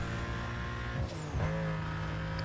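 A Porsche races in Need for Speed: Most Wanted (2005, PS2), its engine droning steadily throughout, with a brief pitch swoop and tyre scrub partway through, all loud and close.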